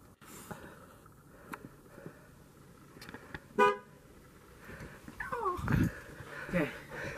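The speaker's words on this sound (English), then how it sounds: "We're gonna honk the horn" Inside a parked RV, a few short horn toots sound near the end, brief and fairly loud over a quiet room tone, with soft clicks and a voice speaking earlier.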